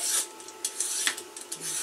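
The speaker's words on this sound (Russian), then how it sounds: "Будем сейчас еще и зеленые чистить. У них шкура такая более, видите, плотная." Vegetable peeler scraping the dense skin off a green zucchini, a series of short, quiet, rasping strokes in an uneven rhythm.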